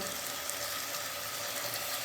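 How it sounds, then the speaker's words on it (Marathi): Hot water is poured into frying spices for a chicken soup, producing a steady rushing, bubbling hiss that stays even and fairly quiet throughout, with no talking. "इथे गरम गरम पाणी ठेवलंय पण गरम पाणी कशासाठी"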